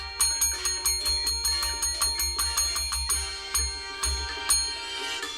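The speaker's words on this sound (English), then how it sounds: "I'm playing the dinner bell here." A dinner bell clangs in a quick, steady run of bright metallic strikes, about a dozen in a row, then a few slower, scattered rings with a low hum underneath, played at a music event.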